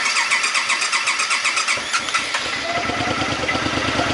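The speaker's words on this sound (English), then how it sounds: "So we're gonna go ahead and give her a crank." A 2012 Suzuki Boulevard C50T motorcycle being brought back from long disuse cranks with a rhythmic starter churn for about two seconds, then catches and settles into a loud, close, steady idle.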